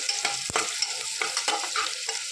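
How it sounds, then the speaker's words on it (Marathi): Masala for pressure-cooker mutton biryani sautés in hot oil with a steady close sizzle, broken by repeated spoon scrapes and one sharp clack against the pot. "आणि चांगलं असं एक मिनिटासाठी परतून घ्यायचं आहे"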